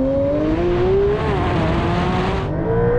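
A Porsche 911 GT3 and a Carrera launch side by side in a drag race, a loud, sustained engine roar climbing in pitch as the cars pull away, with no talking.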